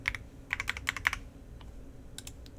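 Someone types a password on a computer keyboard: two quick clusters of light key clicks separated by a short pause, then a few scattered taps, soft and close.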